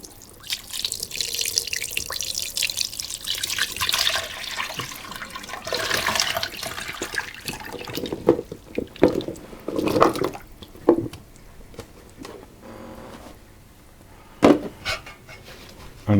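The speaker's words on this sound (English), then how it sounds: "I'm going to pour in the marinade" Marinade pours and splashes steadily over meat for several seconds, followed by scattered wet drips and small clatters, close by with no talking.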